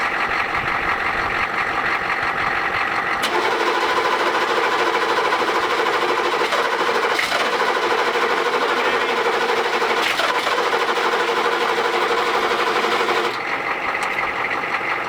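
A 1984-era style M1097A2 Humvee diesel engine cranks over in a steady, rapid mechanical churn, loud and close, with a louder stretch in the middle before easing back, and no catch into a running idle.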